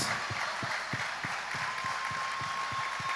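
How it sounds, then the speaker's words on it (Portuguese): Applause greets special guests at the AdorarTe 2025 church worship event by Grupo ISN, a steady wash of crowd clapping with a few distinct nearer claps punctuating it, moderately faint and continuous throughout. "uma salva de palmas para os nossos convidados especiais"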